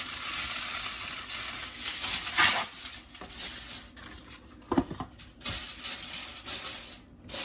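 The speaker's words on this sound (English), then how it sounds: "I'm just going to cover it with aluminum foil and let it cook." Aluminum foil crinkling and pressed over a hot cooking pot at home, in bursts of crackly rustling with a few clinks against the rim, close and moderately loud, no talking.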